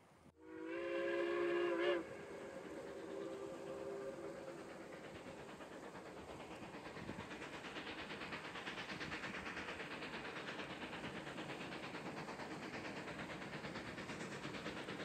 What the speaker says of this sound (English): we heard that lone engine cry